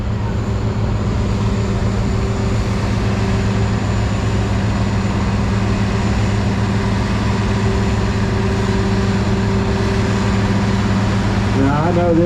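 A 1206 tractor at a tractor parade runs with a steady, loud low engine drone throughout, with people talking over it.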